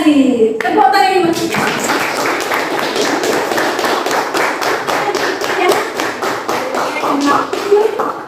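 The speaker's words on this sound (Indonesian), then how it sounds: "Tepuk tangan." Students at an anti-corruption school talk clap together in a rhythmic pattern, sharp synchronized claps repeating in a steady beat after a brief bit of voices, close and loud.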